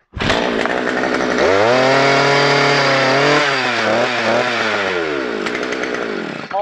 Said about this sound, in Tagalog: Testingin po natin tong 200 mm po natin na drill bit.